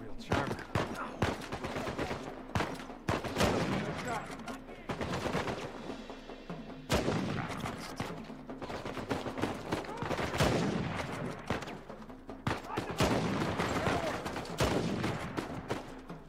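Dense, continuous gunfire from Uncharted 4: A Thief's End, rapid bursts and single shots overlapping with explosions and game effects, loud and close throughout with a voice faintly mixed in.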